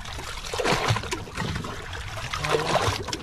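Water trickling and sloshing into a small fishing boat through a hole in the hull, faint and uneven splashing and dribbling with occasional knocks, no speech.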